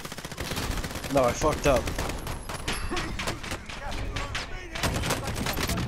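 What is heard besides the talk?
pistol gunfire in the video game Call of Duty: Modern Warfare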